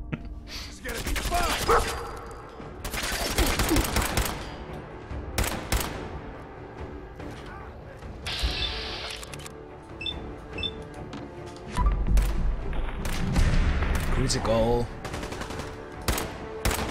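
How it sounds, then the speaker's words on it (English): Automatic weapon fire in the video game Fallout 4, loud bursts at irregular intervals mixed with other clattering game effects, and faint voices in parts. "someone unleashes automatic weapon on you"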